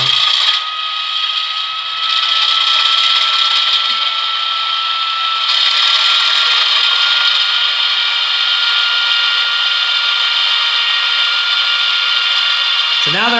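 A Bachmann ALCO FA2 model diesel locomotive with a TCS WOW sound decoder revs its prime movers. A steady, loud, buzzing engine drone with a whining tone holds throughout and steps up in intensity partway through.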